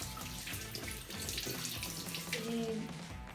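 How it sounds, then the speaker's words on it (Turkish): Tap water runs steadily into a sink during hand washing, with a continuous close splash, brief clatter and faint tonal rings near the end. "Şöyle elimi bir yıkayayım."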